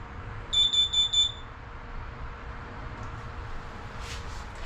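An LP/CO detector in a 2023 Forest River Salem 33ts RV is test-fired and gives a quick run of four loud, piercing beeps early on. A quiet room hum follows.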